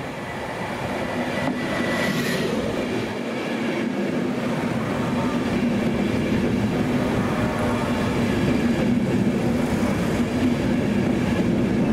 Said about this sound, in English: The next train to arrive at platform 3A approaches.